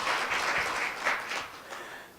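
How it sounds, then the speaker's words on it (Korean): Audience applause at the opening ceremony of a KDI policy seminar, a steady wash of many hands clapping that holds fairly even for about two seconds, then gradually thins and fades. "큰 박수 부탁드립니다."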